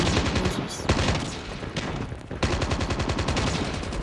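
Rapid automatic gunfire from the mobile game Call of Duty Mobile, loud and dense, in continuous bursts with brief pauses between them.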